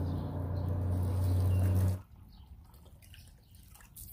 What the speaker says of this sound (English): fill the bucket with water